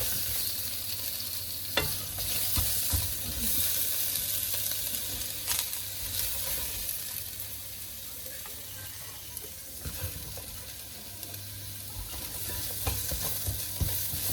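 Steady, close sizzling and crackling of a noodle stir-fry in a hot pan, with occasional clinks and stirring scrapes throughout.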